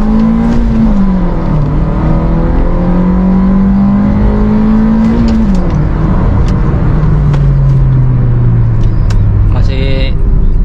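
A 2014 Honda Mobilio with a manual gearbox drones steadily while driving, the engine note climbing and dropping through gear changes under constant road and cabin rumble.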